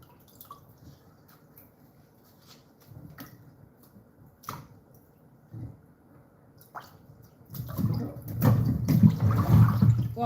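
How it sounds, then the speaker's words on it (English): Scattered drips and splashes of water as slimy tilapia fish is rinsed in a bowl, sparse at first, then a louder run of sloshing and swishing toward the end, close and without speech. "It's slimy. One more rinse will be okay."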